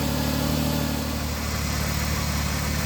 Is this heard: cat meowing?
no